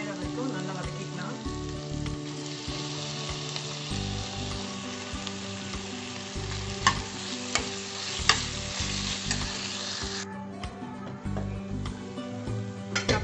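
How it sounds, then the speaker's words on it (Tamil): Tomatoes and green chillies sautéing in a pan for green chilli sambar, a steady close sizzle and fry with repeated stirring scrapes and clatter throughout, the hiss dropping away near the end. "இப்போ தக்காளி சேர்த்து நல்லா குழையிற வரைக்கும் நல்லா வதக்கிக்கலாம்."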